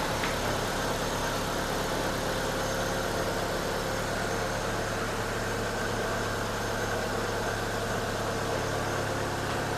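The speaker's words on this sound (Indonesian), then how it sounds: "Ini suara mesinnya." A 2010 Hyundai Avega GX engine idles after an engine flush and oil change, giving a steady, smooth hum heard close up without interruption.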